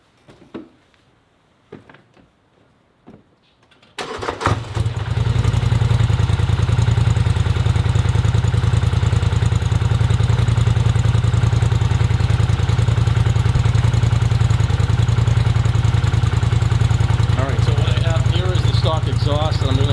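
After a few seconds of quiet, a 2018 Polaris Sportsman 1000 XP ATV with a Big Gun EXO slip-on exhaust starts and settles into a loud, steady, deep idle that runs throughout, with a slight rattle near the end.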